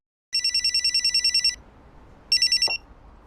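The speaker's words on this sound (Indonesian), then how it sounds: "Shin mendapatkan telepon dari bosnya." A telephone rings in a car with two bursts of rapid electronic trilling, the first longer, the second shorter, separated by a quiet gap, loud and close with no talk.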